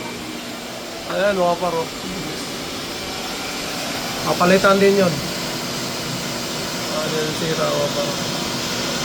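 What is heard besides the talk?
vacuum cleaner running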